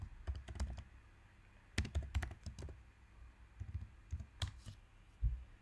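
Soft, close keystrokes on a Mac computer keyboard come in short uneven bursts with brief pauses, quiet clicking taps and no voices.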